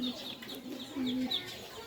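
A farmyard hen clucks softly beside her chicks in short, low, close bursts, with thin high peeps from the chicks woven through.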